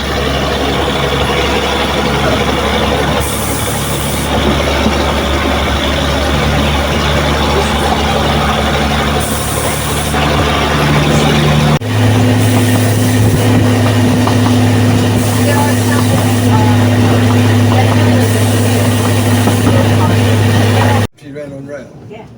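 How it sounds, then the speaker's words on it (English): Heritage railway diesel locomotive running with a steady low engine drone and rumble, the note shifting partway through as power changes, with people talking over it throughout. "now it's time for a more civilized, nice, smooth, modern trip behind one of the line's diesel locomotives"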